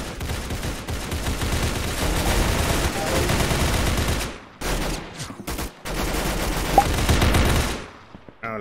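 Rapid AK rifle bursts in the Roblox game Arsenal, loud sustained automatic fire with brief pauses between strings of shots.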